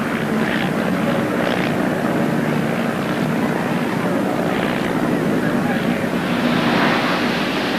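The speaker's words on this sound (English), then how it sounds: "it's the last Foxmoth flying commercially" A vintage de Havilland Fox Moth biplane drones steadily nearby at an air show, its piston engine and propeller a continuous rough roar, with someone talking over it.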